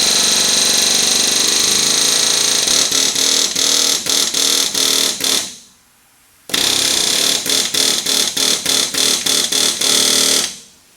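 A 1965 Ford Mustang GT350 driven hard, loud engine roaring with a steady high drivetrain whine and rapid stuttering pulses, cutting out to near silence midway before surging back just as loud.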